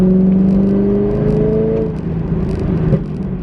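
A Chevrolet C5 Corvette cruising at 45 mph in fourth gear near 2,000 RPM downshifts to third, its low steady engine drone shifting pitch partway through, close and loud.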